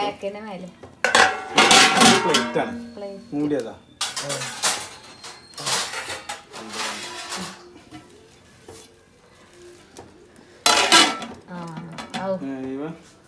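Pot lids and dishes clatter and clink during home cooking of buffalo leg in a Kerala kitchen, with several loud bursts of metallic rattling and scraping among quieter stirring, while a person talks throughout.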